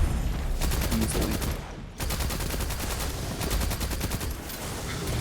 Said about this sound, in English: I know the submachine gun's not the greatest at range. It gets the job done.